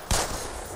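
A single gunshot in the video game Black Mesa, one sharp loud crack followed by a short ringing tail, close and with no talking.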